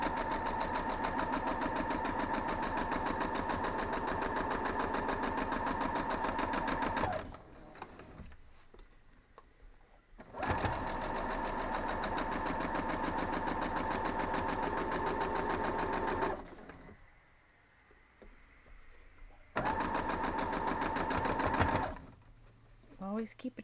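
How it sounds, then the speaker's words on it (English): A sewing machine stitches a quilt block seam in fast, steady runs, stopping briefly twice before starting again, loud and close, with a short pause near the end. "So now we're just going to sew right down."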